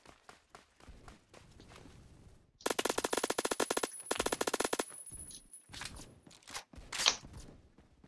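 A Kriss Vector submachine gun in the shooter game Phantom Forces fires rapid full-auto bursts, a tight rattle of quick cracks, preceded by scattered single shots and footsteps, with a few more bursts trailing off.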